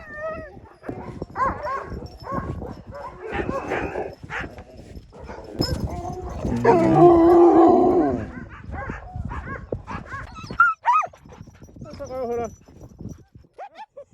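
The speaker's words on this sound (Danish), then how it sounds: "Ved ankomst til kennelen begyndte et kor af hundehyl" A chorus of sled dogs at a kennel on Svalbard, with overlapping howls, yips and barks rising and falling through the clip, loud and close, with people talking underneath.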